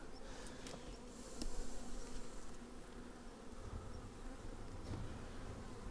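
Steady, dense buzzing from many honeybees in a hive, a continuous hum with no talk, holding at a fairly even level throughout.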